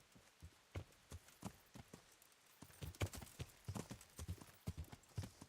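Horse hooves clip-clop in Kingdom Come: Deliverance, an uneven walking rhythm, sparse at first and then quicker and louder, close by with no voices.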